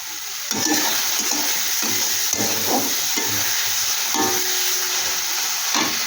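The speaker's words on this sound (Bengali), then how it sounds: "দেখো বন্ধুরা, মশলাটা আমার কষানো হয়ে এসছে। পরে এই দেখতে পাচ্ছ তেল ছাড়ছে।" Masala paste for bhetki fish chachchari sizzles in oil, a dense continuous frying hiss broken by repeated scraping and stirring strokes close to the pan.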